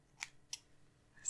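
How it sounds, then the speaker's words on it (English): Scissors snip through hair close by, three quick crisp cuts spaced over about a second in an otherwise quiet space. "I'm just going to trim it a little."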